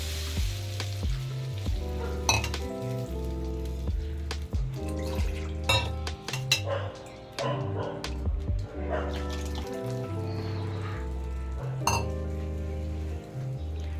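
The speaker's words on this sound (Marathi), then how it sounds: "कांद्याला अशी उकळी सुटली पाणी आपण जे ॲड केलेलं त्याला ह्यात आता आपलं कुळीत पीठ जे आपण भिजवून घेतलेलं ते आपण टाकतोय" Soaked horse gram flour going into boiling onion water in a pot for pithla: a close bubbling sizzle with stirring and sharp metal clinks of a spoon against the pot, uneven and busy throughout.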